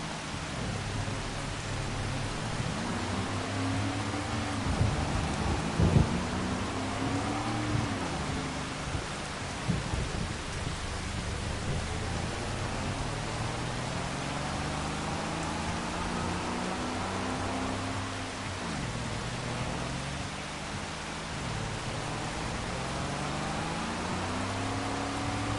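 A thunderstorm in the farming game Farming Simulator 25: steady rain hisses on surfaces while deep rolls of thunder swell and fade underneath, with no voices over it.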